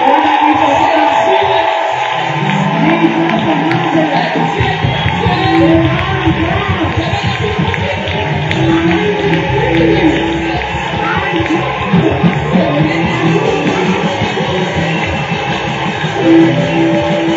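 A church congregation claps and cheers for God during a consecration service, a sustained, loud crowd roar with rhythmic clapping and whoops, while a voice speaks over the noise.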